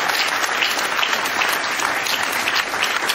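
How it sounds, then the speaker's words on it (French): A roundtable audience applauds the chair, Philippe Varre, as he is welcomed: sustained, even clapping from a sizeable crowd, close and steady for the whole stretch with no voices on top. "Je vous demande d'applaudir Monsieur Philippe Varre."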